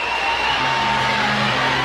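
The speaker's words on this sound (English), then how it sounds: "You heard the roar of the crowd." A loud, steady roar from the crowd fills the stadium at the Oklahoma vs Texas softball game in the 2024 Women's College World Series, a dense wash of cheering voices throughout.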